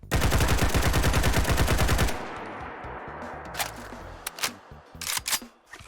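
An AKM rifle from a Fallout 4 modern weapons mod fires in a fast, loud automatic burst of evenly spaced close shots for about two seconds. Reload clicks, clacks and mechanical handling noises follow.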